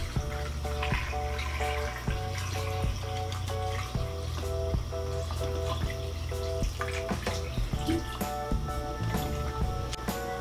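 Water runs steadily into a pressure cooker holding chicken for broth, a continuous splashing pour close by with a repeating electronic tone sounding underneath throughout.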